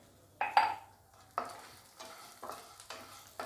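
Garlic and coconut sauté in a pan with a soft background sizzle, broken by about half a dozen distinct scraping strokes of a spoon stirring against the pan, close and unhurried, with no talking.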